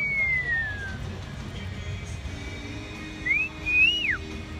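A person whistling a few short sliding notes, one long falling tone followed by quick rising and falling chirps, faint over quiet background noise.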